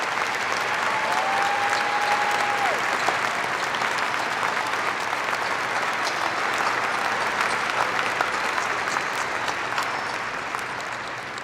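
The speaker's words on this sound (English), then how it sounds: "Let's have another round of applause for everybody else who made their graduation possible." Large arena audience applauding at a university commencement ceremony, loud continuous clapping with a brief tonal whistle early on, steady throughout and easing slightly at the close.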